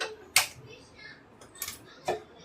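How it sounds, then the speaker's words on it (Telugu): Gas stove being switched on, three sharp clicks from the igniter knob in quick succession, close and crisp against a quiet kitchen. "ముందుగా స్టవ్ ఆన్ చేసుకుంటున్నా"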